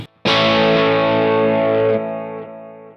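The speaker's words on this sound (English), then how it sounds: "You can hear the attack of me hitting the chord, and then you can hear the second attack of the delay coming in." A single distorted electric guitar chord played through a Kemper delay effect strikes sharply, rings out thick and loud, then a second delayed attack follows as the sound slowly fades.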